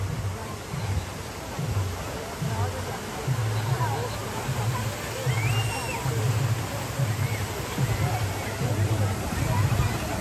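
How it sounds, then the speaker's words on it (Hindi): Steady rushing water from a park waterfall at a floral exhibition in Race Course Park, Lahore, a dense continuous wash with crowd chatter and a low pulsing hum underneath. "अच्छा, पानी की आवाज़ इतनी खूबसूरत लग रही थी"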